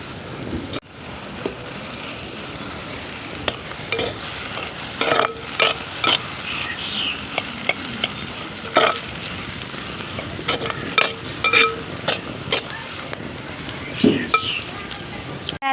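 Small bitter gourd slices frying with crushed garlic chilli powder in a pan, a continuous crackling sizzle with frequent sharp scrapes and knocks of a spatula stirring, close and fairly loud.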